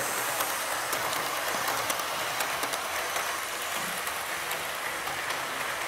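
A continuous high-pitched whirring hum of an exposed electric motor in a Hornby Hitachi model train with pantographs up, steady and fairly loud, with faint clicking from wheels on track.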